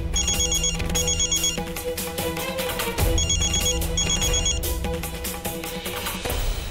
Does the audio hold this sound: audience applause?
no